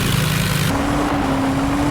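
A vehicle engine revs hard in the Indian Vehicle Simulator 3D game, a loud steady drone whose pitch drops partway through and then holds, with no talk over it.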